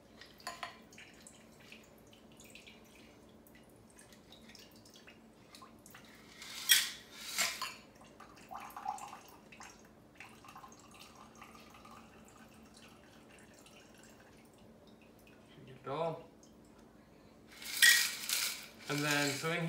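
Cocktail poured from a stainless steel shaker through a built-in sieve, quiet background then a few clinking metal knocks and short splashy pours of liquid, the last one louder and near.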